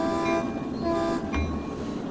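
A train in Train Sim World 3 rumbles steadily with a low, continuous rolling noise and a sustained tonal horn-like hum, loud and close, with no talking.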